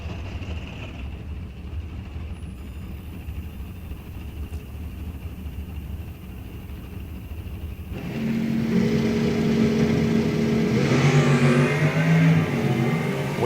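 Brian Schultz's Dodge Lil Duster and a '99 Camaro in A-stock automatic trim launch side by side at an NHRA drag strip. Engines idle and rumble, then break into a loud, rising, roaring acceleration that holds to the end.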